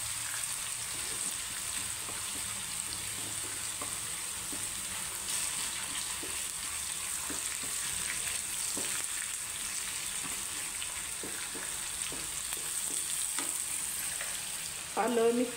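Two spoonfuls of cumin seeds with finely chopped ginger roasting in a pan for a spice mix, a steady faint sizzle and crackle throughout, with occasional soft stirring scrapes and a brief louder rustle at the end.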